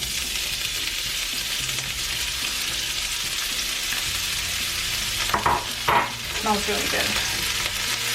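Aromatics and eggs frying in hot oil in a pan of leftover fried rice give a loud, steady sizzle, with stirring scrapes and crackling bursts near the end and a brief spoken remark over it.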